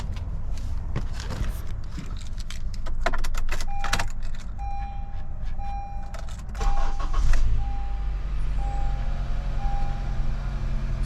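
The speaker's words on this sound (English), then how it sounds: "then you're going to go start your car." Honda CR-V being started after a rear brake job, with a short cranking burst, keys jangling and a chime beeping at intervals, settling into a steady close idle.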